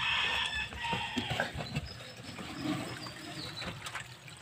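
A hen clucks softly beside her nest holding three eggs, with brief rustles and a faint trickle of water underneath, close and fairly quiet throughout.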